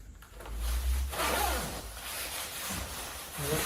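A zipper on a Supreme Miami jacket being pulled, giving soft rasping zips and rubbing fabric, close and fairly quiet.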